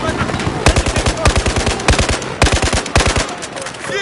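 Air support gunfire raining down in Battlefield 4, loud rapid bursts of heavy automatic shots in several short volleys with brief gaps, booming and close, over battle noise.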